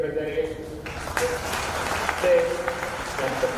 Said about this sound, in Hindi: आप सब लोग जोर से तालियां बजाइए